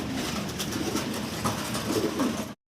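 Large English carrier pigeons in a cage give low, soft coos beneath a dense, steady broadband wash of background noise that cuts out abruptly at the end.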